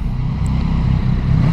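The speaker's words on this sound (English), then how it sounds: "One thing you notice right off the bat though is how good these exhausts sound." A 2022 Yamaha XSR900 motorcycle on its stock exhaust gives a steady, deep engine rumble, close and fairly loud, with no voices.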